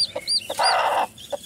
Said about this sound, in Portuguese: vou mostrar aqui para você mais um pouco dos pintinhos